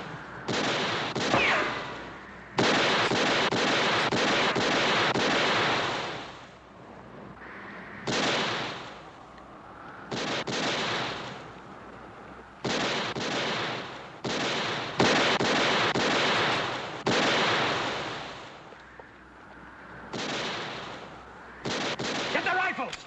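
Repeated rifle and pistol gunfire in a western TV gunfight scene, loud bursts of shots in clusters with brief pauses between them, with shouting voices in between.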